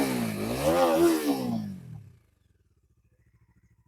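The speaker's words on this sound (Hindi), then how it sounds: "अब मैं आपको रैप करके और सुनाता हूँ" Close and loud, the stock-exhaust Bajaj Pulsar 250 motorcycle engine revs up and down in a smooth rising and falling sweep, then drops back to a faint, steady idle.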